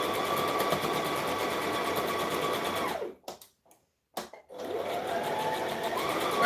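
A sewing machine stitches a garment made from a McCall's M7314 pattern, running steadily, then stopping briefly for a readjustment before starting up again.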